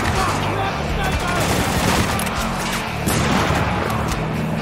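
Dense, continuous gunfire from Spec Ops: The Line, overlapping bursts and rattling shots, with a heavier volley near the end, loud and close throughout with some voices mixed under it.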